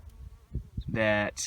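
A dense, steady buzzing of honey bees at a hive swells up near the end after a few faint spoken sounds, loud and close for a moment.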